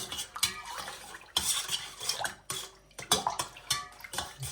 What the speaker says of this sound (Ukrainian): Поки кристал, кристаллики солі не пропадуть, ребят, я її змішую с водой.